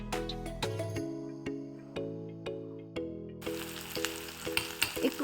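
Sliced onions and green chillies frying in oil in a pan, a steady soft sizzle under sustained musical tones, with a few clicks of stirring and a brighter hiss near the end.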